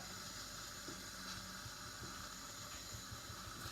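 A coffee machine steam wand heats plant-based milk for a vegan cappuccino, giving a steady, loud, continuous hiss with a faint gurgle that runs unbroken throughout, close up with no talking.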